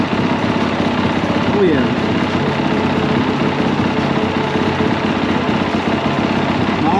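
A 2021-2022 Honda CRF450 R/RX dirt bike engine idles with a steady, rough drone throughout, and a voice speaks briefly over it.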